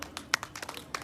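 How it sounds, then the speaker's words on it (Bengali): A small crowd claps by hand for a man in a casual Bengali gathering, a brief scatter of sharp claps with one louder burst, fairly close and a little sparse. "ওনার জন্য একবার হাত তালি।"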